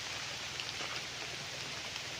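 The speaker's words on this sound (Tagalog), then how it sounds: "Naulan lang po tayo ngayon mga kapraps kaya ayan o, lakas ng ulan." Heavy rain falling steadily on a farm lot in Liliw, Laguna, a dense even hiss with no breaks and no voices.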